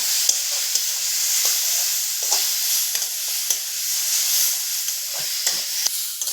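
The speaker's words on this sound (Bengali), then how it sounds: "সমস্ত উপকরণ দিয়ে আমি একটু এইভাবে নাড়াচাড়া করে ভাজা ভাজা করে নিয়েছি" Elephant apple (chalta) with turmeric, salt and spices fries in a pan with a steady sizzling hiss, punctuated by repeated scraping strokes of stirring at an uneven rhythm, close and alone.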